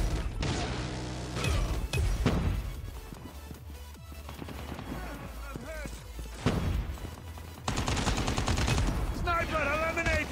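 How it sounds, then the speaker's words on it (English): Call of Duty Mobile gameplay with bursts of rapid automatic gunfire and single shots, loud and close. Other game sounds crash around the shots, and in-game voices call out. "A gunshot!"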